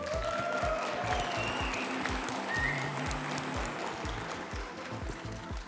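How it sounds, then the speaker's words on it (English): Crowd applause at a live StarCraft esports event, a dense and sustained clapping roar from a large audience with heavy rhythmic low thumps and a voice underneath. "I want to hear your applause for the Terran powerhouse, Ryung"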